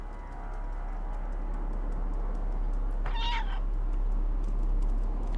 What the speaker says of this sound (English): These sounds really do sound genuine, like from a real cat and that.